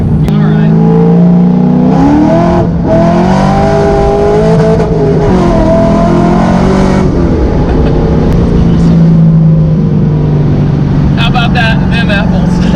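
A supercharged C5 Corvette Z06 accelerates hard in second gear, its engine note climbing loudly from inside the cabin, with supercharger whine and a rising, sustained roar; people talk over it.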